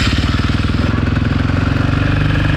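A 2013 Suzuki RMZ450 dirt bike engine runs up close with a rapid, loud, pulsing thump, a steady mechanical chug that holds throughout.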